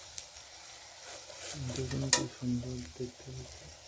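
Soft sizzling of dahi bora frying gently in oil, quiet bubbling crackle with a few stirring clicks and a sharp tap midway, close and low in level.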